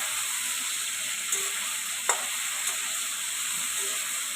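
Potatoes lightly frying in a pan give a steady, close, dense sizzle and hiss with a few faint clinks scattered through it. No voices are heard.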